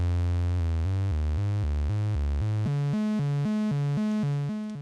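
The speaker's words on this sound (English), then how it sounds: "It's just that long sustained note, but now you could hear that we've got this trill going on." A Softube Model 72 synth holds a sustained note while a square-wave LFO makes it trill, stepping sharply between two pitches in a fast, even rhythm, loud and alone.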